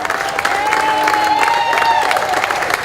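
An outdoor crowd at a Cape Verdean flag raising applauds and cheers for the parade marshal, with dense, sustained clapping from a large group and a whistle-like tone running faintly through it.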